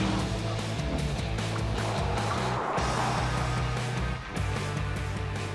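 Porsche Panamera or Taycan steering through a chicane on a test track, with a steady loud drone of road and engine noise heard from the cabin and a brief dip in level during the direction change.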